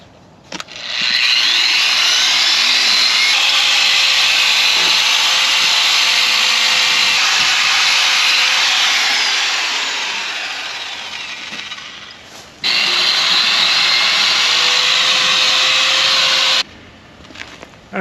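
An angle grinder screams loudly against a steel frame, running steadily, easing off, cutting out briefly, then resuming before stopping near the end.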